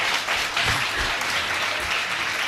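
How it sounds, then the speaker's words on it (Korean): Congregation applauding at a church revival service, a steady dense wash of clapping filling the room without a break. "이럴 때 박수 한번 쳐드려야죠."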